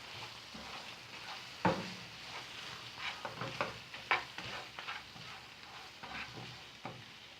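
Mutton chukka stirred in a pan over a mild flame with garam masala and fennel powder, soft sizzling broken by irregular scraping and knocking of the spoon against the pan, close and alone.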